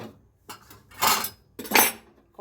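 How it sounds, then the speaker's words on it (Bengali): A metal wok set onto a gas stove gives several distinct clanks and metallic scrapes, close and fairly loud, separated by short quiet gaps. "দিয়ে গ্যাসে আমি কড়াটা বসিয়ে দেব।"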